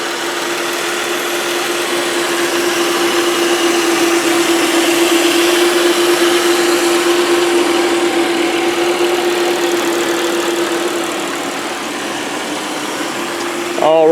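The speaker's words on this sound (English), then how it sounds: "V6 motor, and I'm just going to be quiet and let you guys listen." A 2006 Buick Lucerne CXL V6 idles steadily and close up for about fourteen seconds with a constant mid-pitched hum, heard alone without talking.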